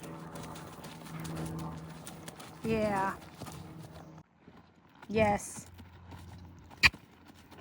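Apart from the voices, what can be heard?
young horse's hooves walking during spin training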